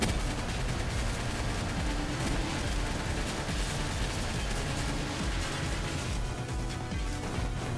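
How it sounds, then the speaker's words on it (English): A missile launcher firing in the video game Palworld makes a dense, continuous roar of blasts and explosions that stays loud and steady throughout with no voices. "Okay, missile launcher from Hobie."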